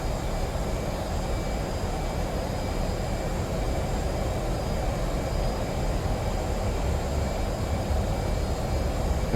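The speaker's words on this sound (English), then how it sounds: "Let's ungate the burners and let them go." Roaring F/A-18 jet engines at full afterburner on a takeoff roll in a flight simulator, a steady, dense broadband rumble with a constant high whine, loud and unbroken throughout.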